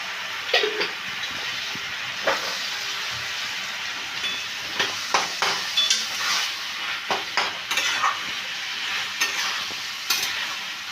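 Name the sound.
stir-frying banana flower and shrimp with spices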